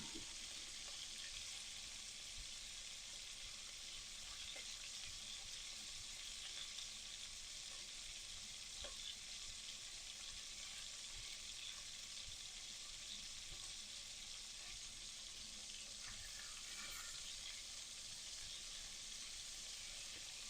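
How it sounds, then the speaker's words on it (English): Beef pieces browning in hot fat in a pan for boeuf bourguignon, a continuous, fairly quiet sizzle and crackle with occasional stirring, steady throughout with no talking. "we're not trying to cook the beef, we're just trying to brown it"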